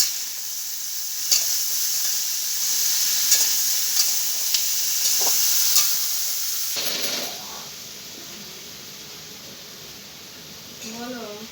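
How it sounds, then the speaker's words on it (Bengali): Potato, pumpkin and soybean chunks frying together in oil in a home kitchen pan, a steady close sizzle broken by scraping stirs, with a voice speaking briefly near the end. "আলু, কুমড়ো, সয়াবিন একসঙ্গে ভালো করে ভেজে নিয়েছি।"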